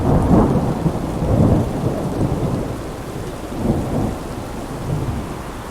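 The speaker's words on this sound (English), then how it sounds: "didn't get any thunder sound now." Rolling thunder with steady rain in Euro Truck Simulator 2, heard from inside a truck cab during a storm; a broad, continuous rumble swells and fades several times across the stretch with no talking.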